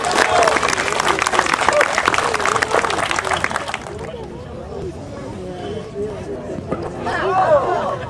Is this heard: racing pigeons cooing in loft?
no